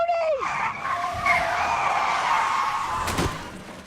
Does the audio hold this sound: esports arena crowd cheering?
no